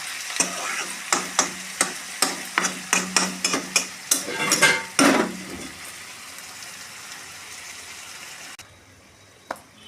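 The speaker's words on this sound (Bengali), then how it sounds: "আলুটা একটু ভাজা ভাজা হয়ে সিদ্ধ হয়ে যাবে।" Potatoes for a runner bean sabji scrape and rattle rhythmically in a pan with a spatula, a dozen or so quick stirring strokes over a faint sizzle, then the cooking quiets down.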